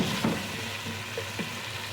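Potato pieces frying in hot oil give a soft, steady sizzle with a few faint stirring clicks, close and continuous, with no talking.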